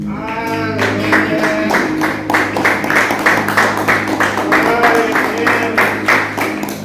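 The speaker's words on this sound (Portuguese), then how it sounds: "louvando o Senhor com a melhor salva de palmas" A church congregation at a family worship service breaks into loud, dense applause, many hands clapping steadily over sustained background music.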